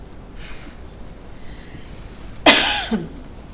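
A single harsh cough bursts out close by after a stretch of quiet room noise at a city council meeting, with a short second catch at the end.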